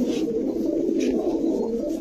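Low, continuous cooing of army pigeons close by, a soft throaty warble repeating without pause.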